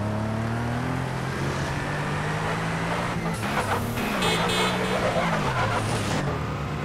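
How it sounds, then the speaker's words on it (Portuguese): Infernus sports car in GTA San Andreas, its engine droning steadily and then breaking into a stretch of tire skidding and squealing in the second half, loud and close. "Esses áudios de derrapada também tá muito bom."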